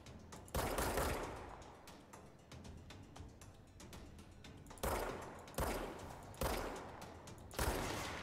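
Rapid bursts of gunfire from the video game Control, several loud volleys with sharp onsets separated by quieter stretches of continuing shots and mechanical clatter.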